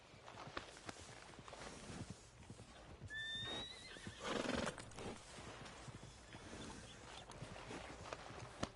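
A horse neighs loudly over the clip-clop of hooves walking at a steady pace, with faint background ambience throughout, in the video game Red Dead Redemption 2.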